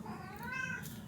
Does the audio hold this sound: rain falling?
no